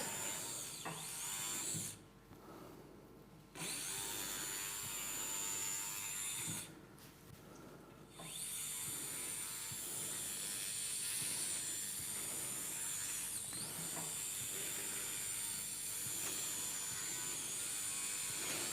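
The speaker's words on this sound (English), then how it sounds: "first of all, I drill the bone" Surgical endoscopic drill grinding bone during full-endoscopic spinal central canal decompression, a steady high-pitched whine running continuously with two brief pauses near the start.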